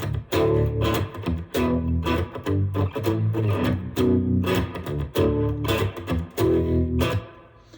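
Baritone guitar played with a distorted tone, low chords struck in a rhythmic pattern with short gaps between strums, loud and close with no voices.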